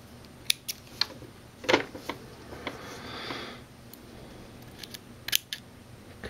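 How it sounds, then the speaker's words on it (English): Sharp little scissor snips trimming sewing thread tails short on a Y-back racer tank top, several crisp close cuts spread out irregularly, with quiet handling noise between them. "Cut the previous thread tails short."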